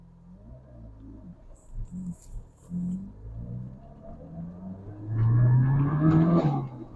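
JCW Mini car engine building to a loud revving surge as it accelerates with wheel spin, a low rumble swelling sharply near the end.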